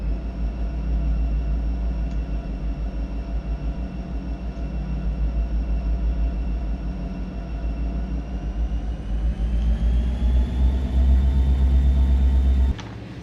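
A train in the Run 8 rail simulator keeps rolling with a continuous, heavy low rumble and a steady mechanical drone. It grows slightly louder before cutting off abruptly near the end.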